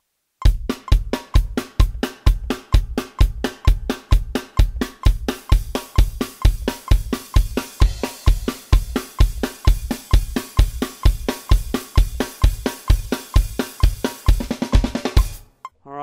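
Drum kit playing a fast double-time punk rock beat at 130 bpm, steady driving kick and snare hits with cymbals, loud and close for about fifteen seconds, then stopping.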